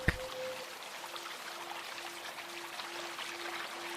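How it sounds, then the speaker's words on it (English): Warm water churns and pours steadily in a continuous foaming wash in a spa tub, with a faint steady hum running through it. "the regular churning and foaming sounds emanating from the tub"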